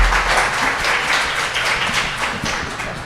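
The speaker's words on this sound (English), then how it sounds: "Let's give a round of applause to our phenomenal panelists" Audience applause for the panelists at a women in hospitality panel evening, a steady, dense wash of clapping that holds at an even level for the whole stretch with no voices over it.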